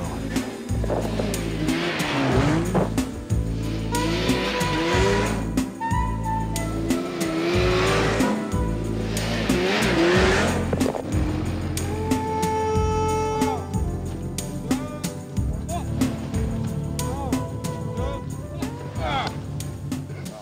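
Snowmobile ridden at night across frozen lakes in deep cold, engine whining up and down through repeated accelerations with rising and falling pitch, loud and close, with brief chatter between runs.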